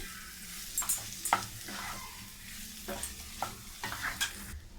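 Diced potatoes with salt being stirred in a hot pan for a sweet potato bhaji, with scraping spatula strokes and soft sizzling in irregular bursts, close and fairly quiet, no voices.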